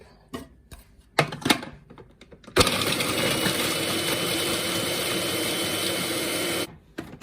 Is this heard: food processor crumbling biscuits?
yes